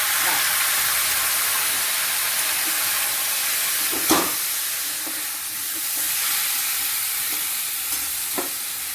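Mango with jaggery and water boiling in a pot: a continuous broad bubbling hiss and sizzle, close and steady, with a few brief clinks of stirring.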